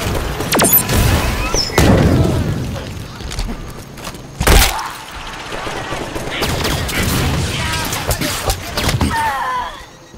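Grenade blasts and gunfire in Halo 5 Guardians: several loud, sharp booms and bursts hit in quick succession, the strongest around the middle, among battle noise and brief voices.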